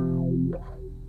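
An upright bass bowed through a G-LAB Wowee-Wah bass effect pedal. A single sustained bowed note rings with a swept, vowel-like wah filter sliding across its tone, lasting about a second.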